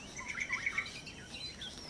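Wild birds, including drongo-like species, chirp on a mountainside during an overnight camp, with a short run of about five quick, bright tweets early on, then fainter calls scattered over steady outdoor ambience.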